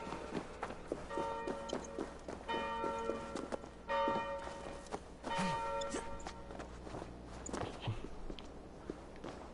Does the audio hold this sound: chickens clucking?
no